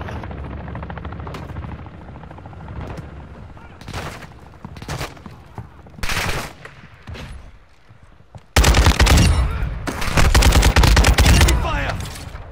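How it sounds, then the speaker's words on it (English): Gunfire in Call of Duty: Modern Warfare II cracks out in scattered loud bursts, then turns into a dense, sustained barrage near the end, with a voice heard briefly among the shots. "Enemy fire!"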